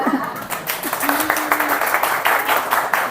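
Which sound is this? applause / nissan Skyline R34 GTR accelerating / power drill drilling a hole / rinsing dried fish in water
applause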